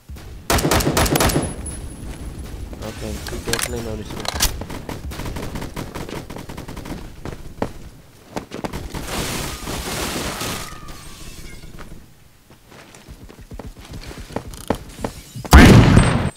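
An M60 machine gun firing in the Roblox game Phantom Forces: loud, close bursts of automatic gunfire with sharp repeated cracks, several separate volleys broken by short pauses, and a heavy final burst.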